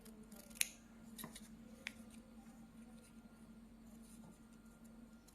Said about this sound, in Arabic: صافي هكا بالمقص ديالنا، ضروري يكون عندنا المقص باش نديرو منو نقص من هذه